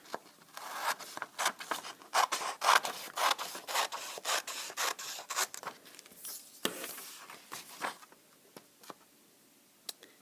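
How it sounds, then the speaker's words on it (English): Scissors snip through paper while a title and small squares are cut out, giving a quick series of crisp rasping cuts, close and fairly quiet, that thin out toward the end with no talking. "I'm going to cut the title and the words, but I am not going to cut my exemplars out yet."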